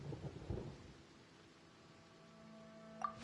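Rumbling thunder from a storm in the Genshin Impact video game, a deep roll at the start fading into a low steady wash, with a faint bright tone near the end.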